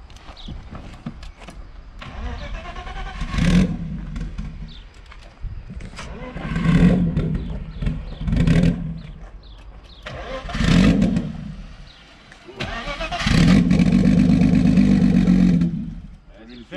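A camper van engine cranks in several short bursts that sputter out, then catches briefly and revs for a few seconds before dying, low on fuel.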